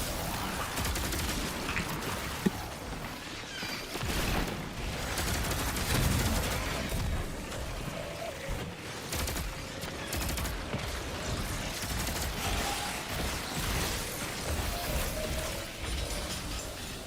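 Finality's Augur fires in Destiny 2 gameplay as dense, continuous gunfire. Rapid bursts and explosions pile up over a loud, busy backdrop with no break.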